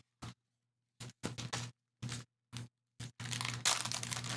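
Plastic record sleeve crinkles in short, separate bursts, then a longer continuous rustle near the end; close and fairly quiet, with silence between handlings.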